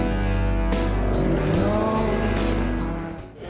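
A brand-new sixth-generation Maserati Quattroporte with a twin-turbo engine drives close by, a loud steady engine roar that shifts and swells before fading at the end, with no talk over it.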